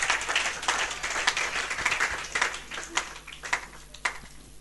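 Worshippers in a church service clap for the Lord, the dense applause thinning into a few distinct, separate claps that echo softly as it dies away.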